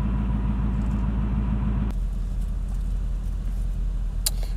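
A 2019 Ford Mustang 5.0 V8 idles in park with a deep, steady rumble close by. The tone shifts abruptly about two seconds in, then settles into a smoother, lower drone.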